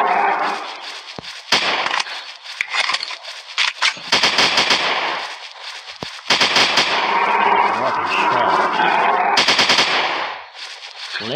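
Rapid bursts of automatic gunfire and single shots from the Zoo Sniper dinosaur hunting game, loud and close, with pauses between volleys and gun mechanism clicks.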